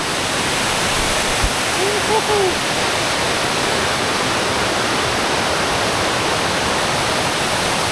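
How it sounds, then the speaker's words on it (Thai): Sai Ngam waterfall in Isan, Thailand, with cold water pouring down: a steady, close, full roar of falling water throughout, with a faint voice surfacing briefly near the start. "นี่คือน้ำตกไซงามครับผม"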